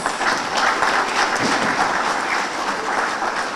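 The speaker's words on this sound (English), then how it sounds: "Let me take the opportunity and ask you to join us in applauding you for all of your efforts." A diaspora forum audience applauds in a hall, a continuous even patter of many hands clapping throughout.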